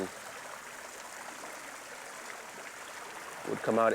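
Water runs steadily in a public fountain in Aix-en-Provence, a soft continuous splashing trickle heard up close, with a voice briefly starting to speak at the very end.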